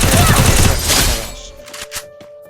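Gunfire in the video game Free Fire ending in a headshot: a loud, dense burst of rapid shots for about a second, then quieter scattered hits and a short final crack.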